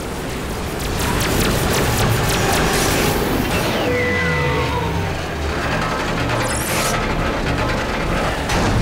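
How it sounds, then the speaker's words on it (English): Locking mechanism being shot in the Star Trek video game, a loud dense wash of mechanical ratcheting and grinding gear sounds with whooshing sweeps, continuous throughout with no talk. "now would be a good time to shoot the locking mechanism"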